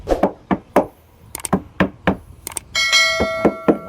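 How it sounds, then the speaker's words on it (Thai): A metal port grille is knocked into a bandpass horn subwoofer cabinet built for one 18-inch driver, giving a series of sharp, hollow knocks at an uneven rhythm, later joined by a ringing, bell-like tone. "ก็เคาะเข้าไปนะครับ"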